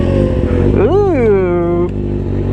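A Yamaha R1M motorcycle starts warm: the engine flares in a sharp rising-and-falling rev, then settles into a steady, close idle, with voices nearby.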